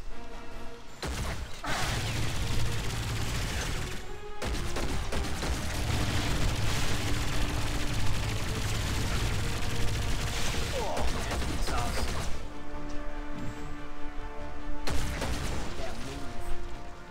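Continuous combat noise from the Marvel Heroes 2016 game: shots, crashes and booms layered thickly for most of the stretch, with brief dips in between and a voice talking over the action.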